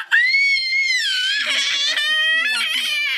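A child cries and screams in a long, wavering high-pitched wail that rises and falls for about three seconds, loud and close, with no other voices over it.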